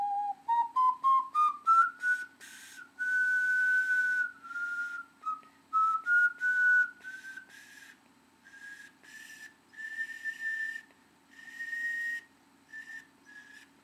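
A handmade marbled stoneware ocarina with a deep fire brick glaze plays a slow melody alone, each pure, breathy tone rising step by step in short separated notes before settling into longer sustained phrases.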